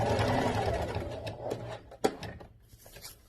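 A sewing machine runs steadily while stitching the seam of a patio pillow, a close, continuous mechanical whirr that slows and stops partway, followed by a sharp click and a few light handling noises.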